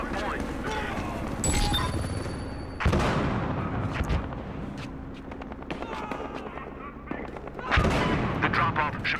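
Heavy gunfire and booming shots in the video game Battlefield Hardline, with sharp bursts and blasts mixed among shouting voices and game sounds.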